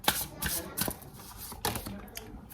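Tarot cards shuffled and drawn from the deck, a run of quick soft riffling and slapping bursts close by, with brief pauses between them.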